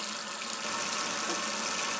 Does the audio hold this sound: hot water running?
yes